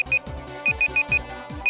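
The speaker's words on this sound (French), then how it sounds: "Ça, c'est horrible, ce bip." Repeated electronic beeps in a video game quiz show, short high tones in quick pairs and groups over a low rhythmic musical bed, fairly loud and close.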